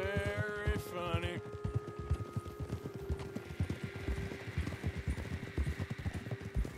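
Hooves clip-clop at a steady walking rhythm from a horse in Red Dead Redemption 2, close and clear, with a brief whinny near the start.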